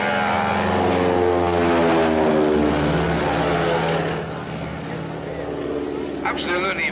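Propeller aeroplane at an air show droning loudly and steadily nearby, engine tone holding then easing slightly, with a commentator speaking over it.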